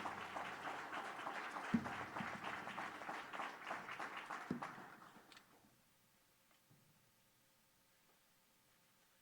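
Crowd applause at an awards ceremony in Watertown, South Dakota, moderately loud dense clapping that fades out after about five seconds into near silence with a few faint knocks.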